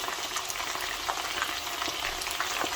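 Marinated chicken pieces fry in hot oil for a restaurant-style crispy chilli chicken, giving a steady close sizzle with scattered sharp pops and crackles, no voices.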